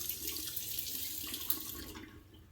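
Water runs steadily from a tap as a shavette razor is wetted under it, a close, continuous splashing flow that fades slightly toward the end.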